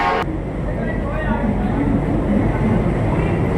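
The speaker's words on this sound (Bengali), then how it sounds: "ট্রেন হাওড়া থেকে ছেড়ে দিল" A train pulling out of Howrah station, a loud continuous low rumble of wheels and carriages filling the clip, with busy crowd and platform noise layered over it.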